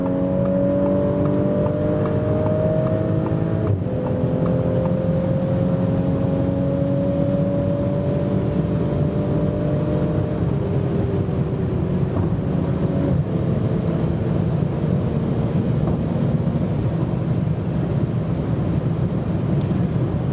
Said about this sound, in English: Even at this tempo over 200 kilometers per hour, I think the car is not so loud inside.